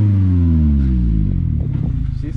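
A Mazda Miata ND with an ISR aftermarket exhaust idles with a low, steady rumble, then revs up and settles into a rougher, pulsing note, heard up close with no talk.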